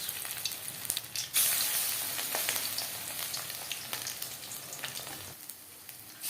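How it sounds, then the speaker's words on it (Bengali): Coated fish slides into hot oil and bursts into a loud, steady crackling sizzle that holds for several seconds at close range, with no talking. "ফিস ফ্রাই তৈরি করার জন্য পরিমাণ মতো তেল আমি গরম করে নিয়েছি এবার দিয়ে দিলাম মাছ"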